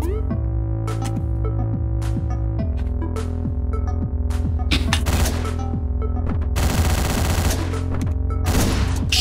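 Gunfire in the video game Hotline Miami: rapid sharp shots and bursts crackle over loud, pulsing synth music, with a dense volley near the end.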